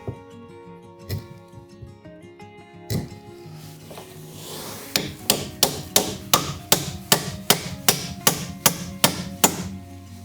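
A wooden plug is driven into a shiki joint with a hammer by a veteran Japanese carpenter: a few scattered knocks, then a quick, even run of about a dozen sharp taps, close and crisp.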